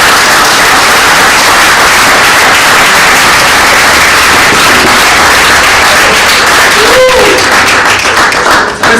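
A church congregation applauds and cheers, a dense, loud, continuous wash of clapping and crowd noise that fills the whole stretch without letup.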